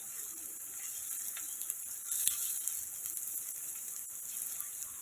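Onion frying in oil while cooking mutton brain masala, a soft continuous sizzle and crackle with a faint hiss throughout and a brief stronger spatter midway.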